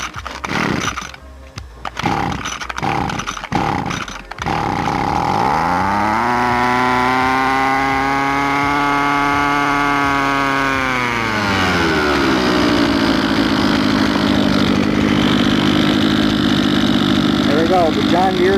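A cold John Deere engine, primed and started by pull cord, sputters through a few choppy attempts, then catches and roars loudly and steadily up close, settling into a rough, droning run.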